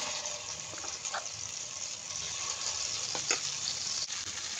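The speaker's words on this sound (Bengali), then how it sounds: "তেলটা গরম হয়ে গেছে, আমি পেস্ট করে রাখাটা দিয়ে দিচ্ছি।" Spice paste sizzles and spits in hot soybean oil in a pan, a dense continuous fizz with a few louder clicks and scrapes of stirring, close and without speech.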